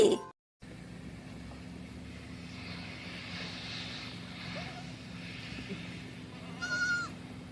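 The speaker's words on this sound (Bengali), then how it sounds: "ছয় ছাগলছানা লাফিয়ে চলে" Young goat kids bleat faintly in a few wavering calls over a low, steady droning background, with a brief louder burst near the end.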